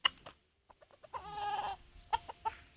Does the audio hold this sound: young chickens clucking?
yes